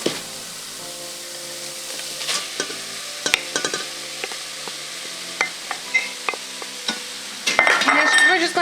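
Cheese is stirred into tomatoes and onions frying in a pan, with a soft steady sizzle under repeated scraping and clinking of a utensil against the pan, louder toward the end.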